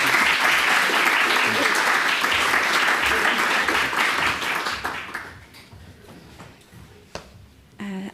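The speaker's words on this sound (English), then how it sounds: "I think another round of applause." Audience applause at a sustainability challenge project showcase, dense clapping from a full room that holds strongly for about five seconds, then dies away into quiet room noise with a few scattered claps and small sounds.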